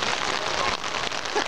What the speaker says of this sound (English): See, this is the third rain we've had all summer.